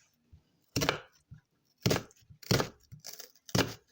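A knife finely chopping a red onion on a board, five or six loud separate chops with softer taps between them, close and with no talk.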